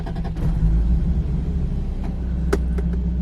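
An automatic Lexus SC300 with 134,000 miles runs with a steady, close low engine rumble after starting, with a brief knock near the start and a couple of faint clicks later.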